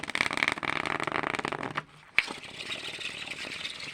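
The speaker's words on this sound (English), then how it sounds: "I'm going to shuffle these really good." A deck of cards shuffled by hand during a tarot-style reading, a dense riffling rattle, a short pause, a sharp snap, then quieter continued shuffling; no talking.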